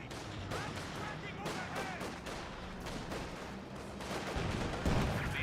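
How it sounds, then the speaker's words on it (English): MG34 machine gun fire in the World War II strategy game Company of Heroes 2 plays as dense battlefield gunfire and blasts, mixed continuously under a caster's talking over the game. "MG34 hitting these units over here"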